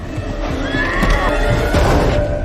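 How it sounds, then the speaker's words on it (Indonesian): A horse in a film scene gives a loud, close whinny with snorting, mixed with hoof clatter and stable movement, continuous across the whole moment. "kuda tersebut hampir mau menendang Daniel"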